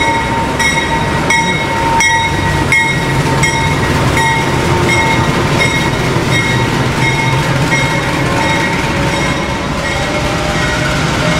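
A passenger train from Cepu bound for Surabaya Pasar Turi rolls into track 1 of a station, a loud, steady rumble with rhythmic clicks of wheels over rail joints and a faint tonal squeal throughout.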